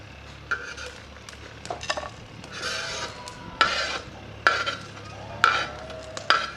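Masala being stir-fried in a pot for a beef nihari, a ladle scraping and clanking against the metal in repeated strokes over a low sizzle, close and fairly quiet.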